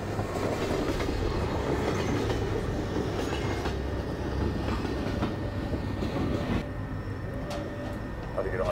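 A train rolls past in the Half-Life 2 video game, a loud continuous rumble with rhythmic clickety-clack of wheels that eases slightly toward the end.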